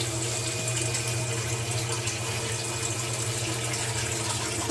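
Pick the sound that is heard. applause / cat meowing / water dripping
water dripping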